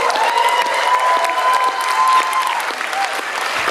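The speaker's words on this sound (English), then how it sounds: "please give Flatlanders another big round of applause" A theater audience applauds the Flatlanders after an arts festival act, a dense, steady wash of many hands clapping, with a voice carrying faintly over the crowd.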